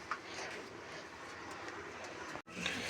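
Pigeons in a pigeon loft cooing softly in low repeated murmurs amid a dense background bustle, fairly faint, with a short abrupt break near the end.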